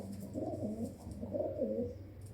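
Pigeons in a breeding loft coo in repeated soft, throaty rolling phrases, close and steady against a low background hum, with no talking.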